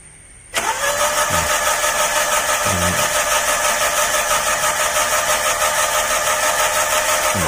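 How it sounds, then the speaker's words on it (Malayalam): A Maruti Gypsy engine cranks briefly, then catches and settles into a steady, loud idle that runs on without pause. "നമുക്ക് പെട്രോളൊക്കെ ഒഴിച്ച് എഞ്ചിൻ സ്റ്റാർട്ട് ചെയ്യാനായിട്ട് പറ്റും"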